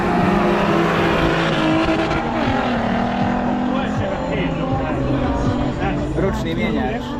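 A light manual-transmission car accelerates hard in a drag race at Mostar, its loud engine roaring and rising steadily as it pulls away close by, while people talk over it.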